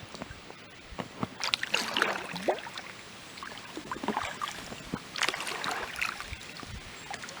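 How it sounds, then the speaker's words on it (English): Gentle water swishing and dripping off canoe paddles as the boat drifts along in the wilderness on a hot day, soft irregular splashes close by with quiet pauses between strokes. "sound of the water on the paddles is just a relaxing sound"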